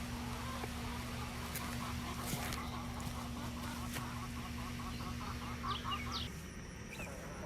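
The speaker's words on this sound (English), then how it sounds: "These are my big chickens, eating their scratch as always" Backyard chickens feeding on scratch grain give off repeated soft clucks and quacky calls over a steady outdoor hum and a continuous low drone that cuts out near the end.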